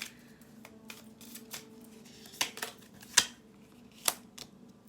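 Tarot cards drawn from a deck and handled, giving soft shuffling rustles with a few sharp crisp snaps and flicks spaced across the moment, close and quiet with no talking.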